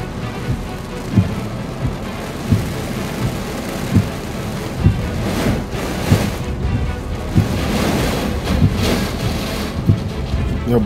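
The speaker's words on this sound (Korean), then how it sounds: "야야 바람 진짜 장난 아닌데?" Strong wind by the sea in Busan before a typhoon roars and buffets loudly and constantly, with gusty low thumps recurring about once a second.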